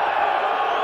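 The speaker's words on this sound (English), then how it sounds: "Crowd don't like it." Football stadium crowd at a European Cup match between Standard Liège and Dundee United, a dense, sustained roar of many voices rising in displeasure, loud and close for under a second.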